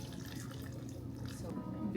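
Water is poured onto yeast for a gluten-free baguette dough, a soft, quiet trickle and splash close by, running steadily for a couple of seconds with faint room noise around it.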